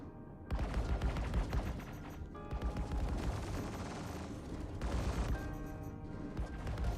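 Rapid laser turret fire in a space video game, dense repeated bursts of blasts and booms that run loud and continuous with brief dips, no talk over it.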